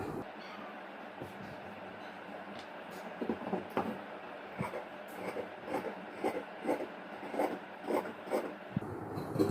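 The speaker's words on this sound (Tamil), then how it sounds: "இப்போ வந்து இந்த ஷேப் நம்ம கட் பண்ணிக்கலாம்" Scissors cutting blouse fabric to shape, producing a series of soft, rhythmic rasping snips that grow more regular toward the end, close and moderately quiet.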